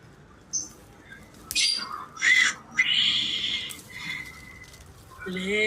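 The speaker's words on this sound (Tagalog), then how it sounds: "Oh, may ibon pala dito." A bird squawking in short, harsh high-pitched bursts, several calls close together, loud and near, with faint people's voices nearby.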